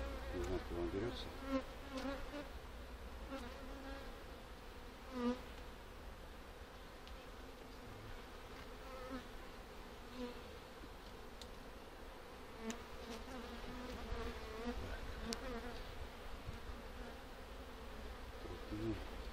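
Honey bees around hives during a beekeeper's inspection of nucleus colonies, a dense continuous buzz of many insects close by, with individual bees zipping past now and then.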